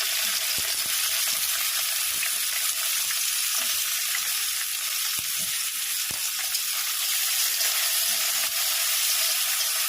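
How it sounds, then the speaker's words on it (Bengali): Sliced onion sizzles in hot oil in a kadai, a steady, dense hiss that stays close and loud throughout, with a few faint clicks and no speech. "তেল দিয়ে দিলাম, তেলটা গরম হয়ে গেছে, পেঁয়াজ কেটে রেখেছিলাম, পেঁয়াজটা দিয়ে দিলাম"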